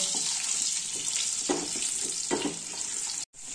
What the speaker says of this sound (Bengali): এবারে এই আলুগুলোকে আমি লাল লাল করে ভেজে নেব।